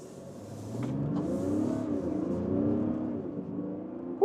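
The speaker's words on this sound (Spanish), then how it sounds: "Eso fue una aceleración desde 0 a 70 km por hora. Cuando le exiges, este motor diésel empuja bien." Mazda CX-60 diesel SUV pulling away from a standstill to about 70 km/h, a steady low engine drone that swells and holds with rising tyre and wind hiss, heard from inside the cabin with no talk.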